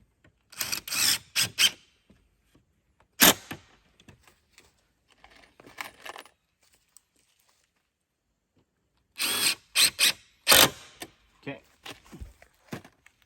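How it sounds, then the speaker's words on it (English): A power drill or driver drives screws through reclaimed pallet boards into a wooden storage door for a captain bed, in several short sharp bursts separated by quiet pauses, close and fairly loud. "Now we're going to just screw those into the back here"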